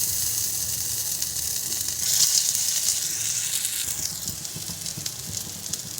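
Paneer and soyabean kofta balls fry in hot oil in a pan, giving a steady close sizzling hiss with soft popping and crackle that swells briefly partway through before settling.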